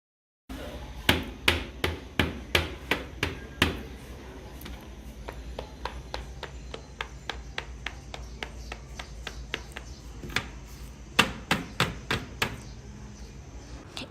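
Crispy homemade chocolate tree-log cookies snapping and cracking, a rapid run of sharp close clicks at first, then quieter scattered cracks, and another tight burst of snaps near the end, with no talking.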